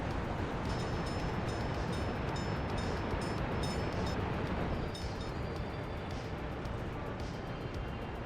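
Gondola ride in a video game: a steady, dense rumbling ride noise like rolling rail transport runs continuously, moderately loud, with faint high tonal whines above it.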